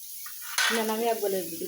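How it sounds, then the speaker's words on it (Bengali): Onions sizzle and start to burn in a hot pan, a close, steady frying hiss that swells suddenly as something is stirred in, with clinking of utensils. "পেঁয়াজ পুড়িয়া যাচ্ছে"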